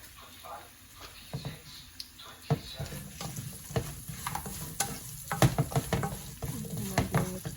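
Sweet potato stir fry being stirred in a pan, with a low sizzle under repeated scraping and clattering strokes of a spoon that grow busier toward the end, heard up close.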